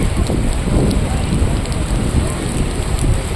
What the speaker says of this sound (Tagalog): inabutan kami ng ulan. Doon sa gitna ng glasswalk.